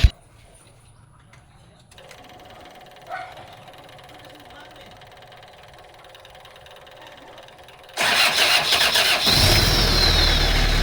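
A reconditioned starter cranks a Kia Bongo 3.0 engine. After a long, quiet stretch with only faint background sounds, a sudden loud, rough mechanical cranking roar begins and carries on to the end.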